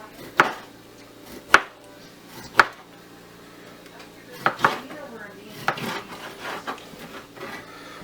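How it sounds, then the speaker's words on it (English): Knife slicing through a wild goat heart on a cutting board, a handful of sharp separate chops and scrapes spaced out at irregular intervals, close and fairly loud against a quiet kitchen background with no speech. "here's the heart. I'm just going to slice it."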